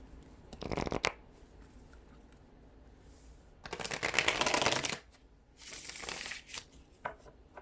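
Playing cards riffled and bridged in several bursts, crisp rapid flutters separated by short pauses, close and clear with no talking.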